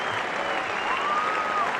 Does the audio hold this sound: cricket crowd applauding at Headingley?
yes